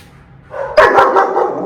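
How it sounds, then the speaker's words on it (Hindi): A dog gives a short, loud bark close by, followed by rough growling vocalizing; the household also includes a German Shepherd and a Husky. "सिर्फ भौंक मत, अटैक कर दे"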